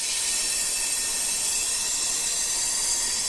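A torch flame hisses loudly and steadily at close range while melting platinum on a charcoal block, with no break.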